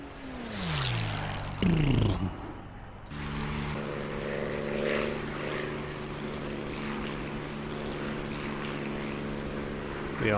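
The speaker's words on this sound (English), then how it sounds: "So that P50 will go by." P-51 fighter aircraft in the DCS flight simulator game flying past, heard as a propeller engine drone that swoops downward in pitch and then settles into a steady hum, with no talking.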